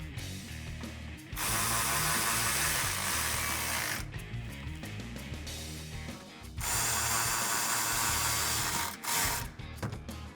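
A socket ratchet with a 5.5mm socket drives belly pan bolts back into a 2005-2009 Mustang GT, producing long bursts of fast, steady clicking close up, separated by brief pauses.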